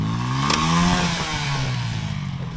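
A motorcycle engine revs on a snowy, icy road, its rising and falling note close and loud, with a sharp knock partway through and clattering under it.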